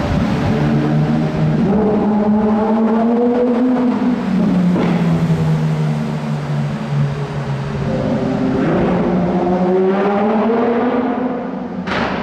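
Hypercars roll by in a Monaco parade, among them a Lamborghini SVJ Roadster and an older Alpine: a loud, continuous engine drone whose pitch swells and falls as each car passes close by, with a sharp rev near the end.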